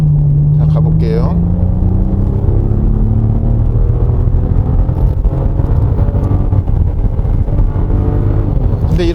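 A 2018 Maserati Levante V6 driving hard on a winding road, its engine droning steadily with a rising accelerating note under continuous cabin rumble and wind noise, while someone talks over it.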